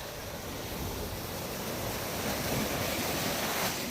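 Ocean waves crash and roar continuously at Akumal beach in Mexico, a dense, close wash of surf mixed with wind buffeting the microphone, with no voices.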